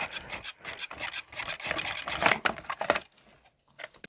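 A Ryobi string trimmer head twisted loose by hand, giving a series of gritty ratcheting and rubbing scrapes that end abruptly, leaving near silence with a faint click after.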